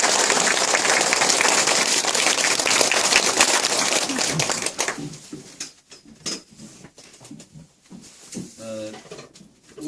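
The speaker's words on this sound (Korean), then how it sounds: "박수로 전례해 주시면 좋겠습니다." A crowd applauds with dense, sustained clapping for about five seconds, then it fades into scattered claps and room noise.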